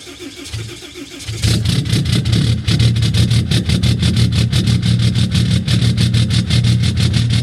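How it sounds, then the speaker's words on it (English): A Ram pickup truck engine cranks and fires up in a cold start at about minus 15 degrees Celsius on factory programming, then settles into a loud, rough, steady idle close by. "This is approximately minus 15 degrees Celsius cold start with factory OEM programming in the truck."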